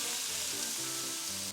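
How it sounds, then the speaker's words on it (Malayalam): Sliced onion sautés in butter in a pan for butter chicken, a soft steady sizzle with faint stirring, close and unbroken, no one speaking. "അതേ ബട്ടറിൽ നമ്മൾ നേരത്തെ ഒരു സവാള ഒന്ന് വഴറ്റിയെടുക്കുക കേട്ടോ."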